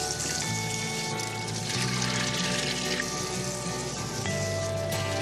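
Cold water runs and splashes steadily over sliced Yukon potatoes being rinsed in a kitchen, a continuous close pour and patter with a faint hum underneath throughout.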